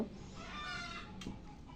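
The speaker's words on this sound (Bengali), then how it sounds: "মুরগি সবসময় দুটো চারটে থাকে তো এখনও আছে ওই যে বাইরা ডাকতেছে আপনারা শুনতেছেন তো" Faint, distant hens clucking outdoors, a few soft calls under a low background hum.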